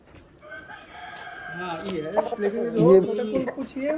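A village fighting rooster crows with a long rising call, close by, while people talk over it and other fowl sounds mix in.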